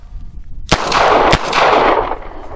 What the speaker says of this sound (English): draw and fire my other 2 rounds